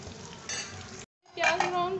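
Onions and curry leaves fry in a pan with a soft sizzle and spatula stirring clatter, cut by a brief silent gap before the frying resumes louder.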